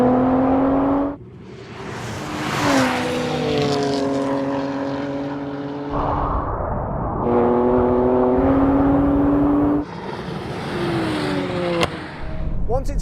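Tesla Model 3 Performance, BMW M3 and Audi RS4 drag racing side by side, with loud engines revving and climbing through gear changes, steady roar dropping briefly between shifts, with excited talk over the top.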